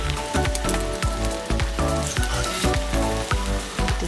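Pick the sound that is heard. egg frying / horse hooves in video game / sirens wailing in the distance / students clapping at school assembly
egg frying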